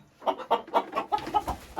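Hens cluck in a chicken coop near nesting boxes, a close series of about eight short, evenly spaced clucks.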